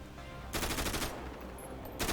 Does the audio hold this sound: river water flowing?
no